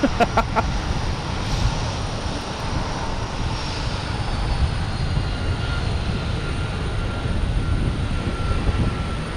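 An Alaska Airlines Boeing 737 MAX 9 departs with a loud, sustained jet roar and a faint high whine drifting across it. The engine noise stays close and steady the whole time.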